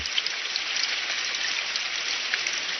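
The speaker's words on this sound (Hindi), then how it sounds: "अगर ऐसे ही बारिश होती रही" Heavy rain falls in a cartoon scene, a steady, dense hiss of pouring water that stays even and unbroken from start to finish with no voices.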